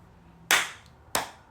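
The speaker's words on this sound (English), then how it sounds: "So let's do our clap test." Two sharp hand claps for a clap test, about half a second apart, each loud and crisp with a short decaying tail, alone against quiet room background.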